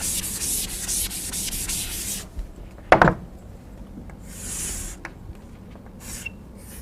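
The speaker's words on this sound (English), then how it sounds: "Let me just erase it and draw a fresh one." Erasing a drawing on a board during a lecture on trusses, heard as a few seconds of rapid back-and-forth rubbing, then a sharp knock and quieter scattered rubbing strokes.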